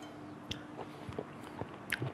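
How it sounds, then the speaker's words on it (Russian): Someone bites and chews forshmak, a chopped herring spread with crunchy onion, giving a few faint, close crunches and soft chewing clicks spaced irregularly over a quiet background. "Лучок хрустит."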